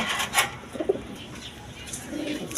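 A pair of yellow Gola pigeons coo softly in a few low, brief calls, close by, with faint background noise and no clear speech.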